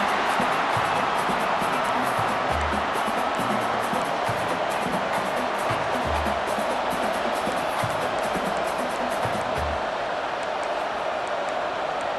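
A big stadium crowd in the College Football 26 video game, LSU vs Alabama, roars steadily for the whole stretch as the defense holds near the goal line in overtime, with a dense wash of cheering and no breaks.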